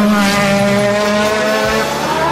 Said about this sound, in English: the Leyton House car sounds very, very strong